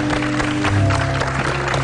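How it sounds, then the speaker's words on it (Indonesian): A studio audience at an Indonesian talk show claps together in a steady, dense wash of applause that fills the whole short stretch at an even, fairly loud level. "Boleh tepuk tangan dulu dong."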